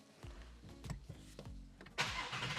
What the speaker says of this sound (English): now let's see if the Shelby starts